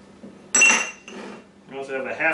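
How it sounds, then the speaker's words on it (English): Cheddar cheese being mixed into a quiche filling in a bowl, with a sharp utensil clink and scraping against the bowl followed by softer stirring knocks; a voice can be heard briefly near the end. "Take a half cup of cheddar cheese. We're going to mix that in there."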